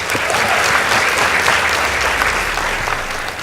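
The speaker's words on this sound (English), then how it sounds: "Please give them a round of applause" An audience at a secondary school debate competition applauds Shariff Nassir Girls High School, steady dense clapping that holds throughout, loud and close.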